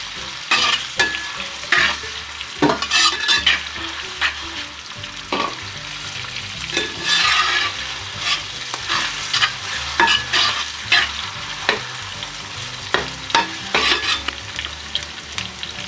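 Onions for a vegetable biryani fry in a pan, a close steady sizzle broken by repeated rhythmic scrapes and clatters of a spoon stirring them through the oil.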